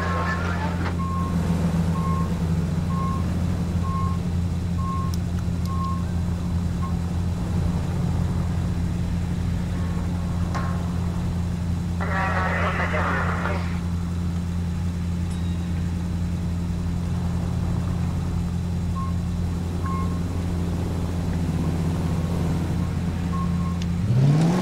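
A car cruising in the video game L.A. Noire gives off a steady low engine drone throughout, with intermittent high beeping and a short crackly burst partway through.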